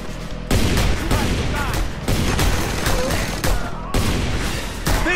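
Heavy automatic fire from a mounted gun in the video game Just Cause 2 pounds continuously and loudly, broken into several long sustained bursts with brief gaps and dense crackling impacts throughout.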